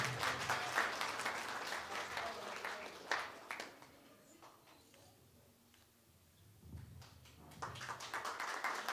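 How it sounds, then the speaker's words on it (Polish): Audience applause for a band at a charity finale event, dense clapping at the start that thins and fades mid-clip, then swells again near the end, with a brief loud thump around the middle. "Proszę, wielkie brawa."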